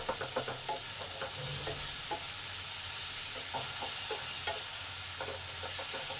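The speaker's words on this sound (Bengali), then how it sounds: "টমেটোটার সাথে মশলার যতক্ষণ কাঁচা গন্ধ না যাচ্ছে ততক্ষণ একটু কষে নেব।" Spices and tomato stir-frying in a pan for a radish pod curry, with a steady sizzle and frequent scraping stirs of a spatula throughout, close and moderately loud with no talking.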